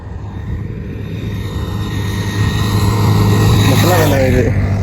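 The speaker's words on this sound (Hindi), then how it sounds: "वो बाइक वाला आ रहा है" A motorbike approaches on a road in the heat, its engine drone growing steadily louder over a continuous vehicle rumble, with a voice audible nearby.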